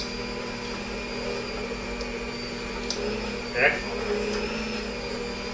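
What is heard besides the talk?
electric mixer mixing chocolate cookie dough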